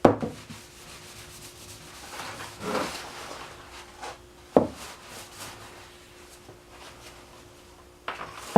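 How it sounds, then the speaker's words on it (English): Sanding on a wooden axe handle comes as several separate rough rubbing strokes with pauses between them. Each stroke is close and fairly loud against a quiet background. "So I might sand a few more spots here"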